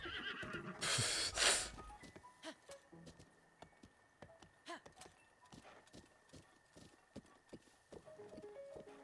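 In a video game, a horse whinnies loudly near the start, then hooves clip-clop in a steady trotting rhythm, with a voice talking faintly.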